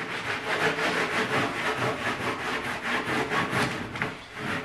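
A rag rubs wax into a wooden truck bed drawer runner while the wood is still hot, making a steady, close, rhythmic scrubbing swish that repeats back and forth throughout with no talk.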